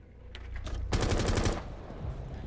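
Machine gun fire in Rainbow Six Siege sounds as a few quick shots and then a dense, loud burst of rapid automatic fire lasting about half a second, followed by a fading tail.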